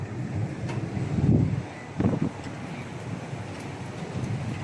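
Wind gusts buffet the microphone on an open condo balcony in a coastal residential area, a steady rushing blow with a couple of louder bursts and no talking.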